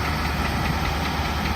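Nissan Titan XD truck with a 5.6 liter V8 engine running, a close, loud, steady idling rumble with faint knocking texture and no talk.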